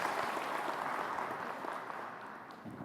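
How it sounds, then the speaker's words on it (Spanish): Seminar attendees at a 2020 tax update session clap briefly for Dr. Humberto Ricaurte, a dense, moderately loud patter of applause that eases off slightly over a few seconds. "Decíamos con un aplauso al doctor Humberto Ricaurte."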